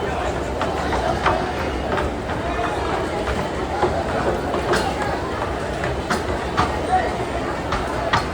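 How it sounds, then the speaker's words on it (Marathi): A train pulls into a packed station platform on a busy holiday morning, a steady heavy rumble running throughout beneath the dense chatter of a large crowd. "फायनली पहिली ट्रेन आली आणि पहिल्या ट्रेनला आता होणारी ही गर्दी."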